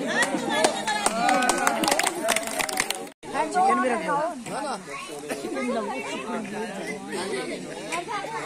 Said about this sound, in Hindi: अरे जोर से बजाओ तालियां